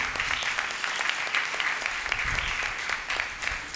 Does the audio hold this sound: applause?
yes